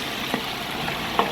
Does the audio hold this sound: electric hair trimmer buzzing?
no